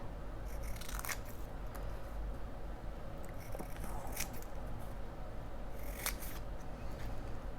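Scissors snip through paper being cut to size for a planner journal, with several crisp close-up cuts spaced over a quiet room hum.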